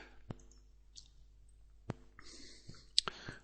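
Computer mouse clicks, a few sharp, isolated ticks spaced apart, close and quiet against a near-silent background.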